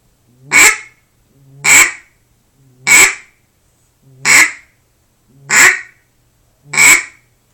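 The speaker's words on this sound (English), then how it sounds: "this first one is the quack whacker" Six evenly spaced quacks blown on a Quack Whacker duck call ring out loud and close, each a sharp nasal burst about a second apart with short silences between.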